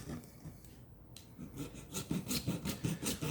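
A utility knife scores styrene plastic sheet slowly, giving repeated short scraping strokes in a steady rhythm. The scraping is close and fairly loud and grows more regular toward the end.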